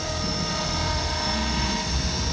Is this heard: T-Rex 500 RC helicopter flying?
yes